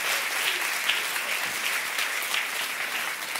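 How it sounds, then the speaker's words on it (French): A church congregation applauding during a French-language sermon, with continuous, evenly dense clapping at moderate volume that holds steady throughout without pauses. "Est-ce qu'on peut applaudir tous ces fous qui nous ont rejoints?"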